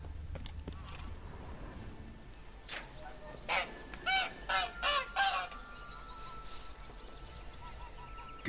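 A caged egg-laying bird in The Witcher 3: Blood and Wine gives a series of loud honking squawks in quick succession, near and clear over a quiet low ambient hum.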